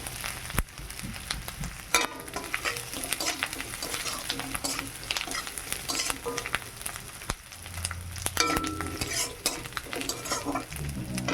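Bay leaves and onion paste fry in hot oil in a village kitchen, giving a loud, continuous close-up sizzle broken by repeated stirring scrapes and light clinks of a utensil against the pan.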